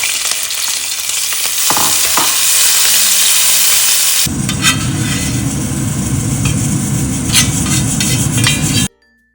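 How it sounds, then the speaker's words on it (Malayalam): Coconut pieces frying in ghee in an uruli for bamboo-rice payasam give a loud, steady sizzle, turning into a denser, fuller crackle about halfway through, with occasional stirring clinks, then cutting off abruptly at the end. "നെയ്യ് ഇട്ട് കൊടുക്കാം. നമുക്ക് തേങ്ങാക്കൊത്ത് വറുത്തെടുക്കാം."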